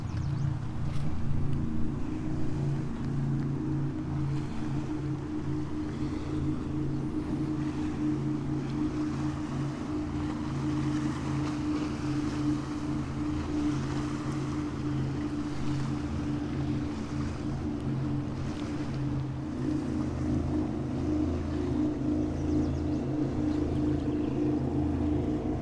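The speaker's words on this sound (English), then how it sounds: "There's a boat coming." Boat passing on a river near a War of 1812 cemetery, a low steady engine drone with hull and water wash, moderately distant and constant for the whole stretch.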